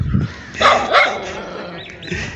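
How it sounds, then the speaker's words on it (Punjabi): A dog barks sharply at close range, a few loud yelps in quick succession, with some light whimpering sounds between them. "ਕੁੱਤੇ ਨੇ ਤਰਾਹ ਕੱਢਤੇ ਸਾਡੇ"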